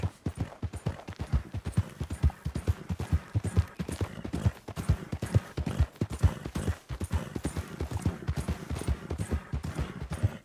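Horse hooves clip-clop steadily in a western-style video game, a close, loud and continuous run of rhythmic hoofbeats on hard ground with no speech over them.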